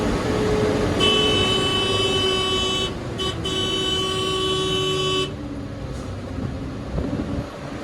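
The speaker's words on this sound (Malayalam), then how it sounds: "ഹോണടിക്കാതെ ഇറങ്ങിപ്പോകാനേ പറ്റത്തില്ല." A bus horn honking on a narrow mountain ghat road during the descent, one long sustained blare over the droning engine and road noise, followed by a short second toot.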